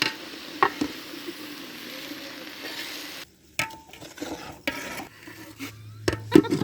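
Khichuri with vegetables is stirred in a hot pan: a steady frying sizzle, then scraping and clinking strokes of a spoon against the pan, close and fairly loud.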